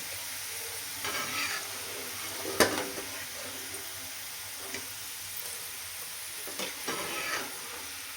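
Garlic frying lightly in oil for a homemade spice masala gives a soft, steady hiss with a few faint clicks and taps, low in level and without speech.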